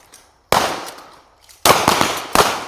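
Three sharp shotgun-style reports at target shooting, each a loud close bang with a decaying tail, spaced irregularly about a second apart, no talking.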